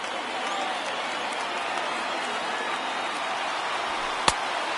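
A large baseball stadium crowd of about 24,000 in MLB The Show 19 roars in a steady, dense wash of cheering, with one sharp crack near the end.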